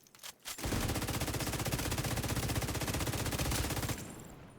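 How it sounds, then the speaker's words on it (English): Sustained rapid automatic gunfire in a video game, a loud unbroken stream of shots lasting about three seconds before cutting off, with no speech. "Oh, some shooting, man."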